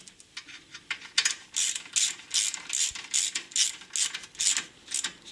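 A ratchet clicks in quick, regular bursts while bolts on a Passat 35i drive shaft are hand-tightened, the sharp metallic ratcheting close and loud with brief pauses between strokes.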